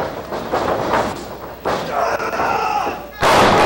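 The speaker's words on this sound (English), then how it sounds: "The crowd calling for the chops, and they're getting what they want." A wrestling arena crowd chants and shouts loudly in waves, with heavy thuds and slams from the ring breaking through the noise and a big surge of crowd noise at the end.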